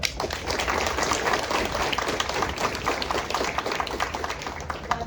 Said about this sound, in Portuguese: E eu gostaria de uma salva de palmas para ela